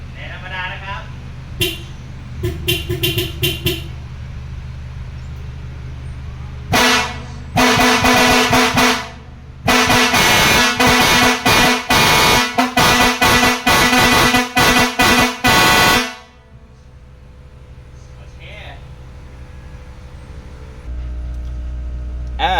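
An express air horn on a new Toyota Hilux Champ pickup, a small kit with a 6-liter tank and pump, blares loudly up close, first in a long blast, then in a rapid series of short honks, with quieter stretches around it.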